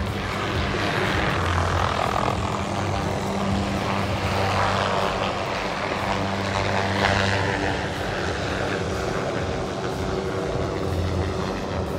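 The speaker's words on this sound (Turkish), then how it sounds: "ardından tekrar düzeltiyoruz uçağımızı, çekişle birlikte gökyüzüne tırmanıyoruz." A propeller airplane climbing after an aerobatic maneuver at the Sivrihisar air show, its engine droning loud and steady with shifting pitch for the whole stretch, with no talk over it.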